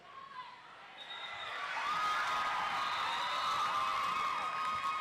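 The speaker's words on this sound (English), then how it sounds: "the crowd here are firmly behind Wales" A stadium crowd at an England versus Wales match roars and cheers for Wales, a broad sustained swell of voices with whistles and shouts rising and holding steady.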